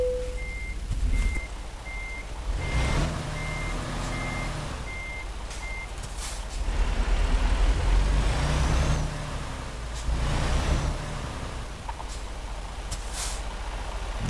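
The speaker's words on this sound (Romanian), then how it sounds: "Dăm cu spatele să ieșim de aici." A truck in American Truck Simulator backs up with a steady series of loud reversing beeps over a low engine rumble, followed by air brake hiss and vehicle noise.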